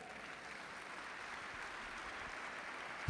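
Church congregation giving sustained applause, a faint and even wash of many hands clapping, heard at a distance with no break.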